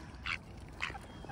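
Ducks quack while being hand-fed by a person, two short raspy calls about half a second apart, close by and moderately loud over a low background rumble.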